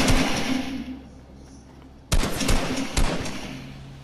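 Gunfire in the video game Fortnite, with a sustained roar of game sound breaking into sharp, loud shots and bursts in the second half.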